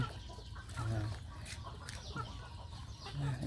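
Chickens cluck repeatedly at a rural farm garden, close and moderately loud, with soft background voices.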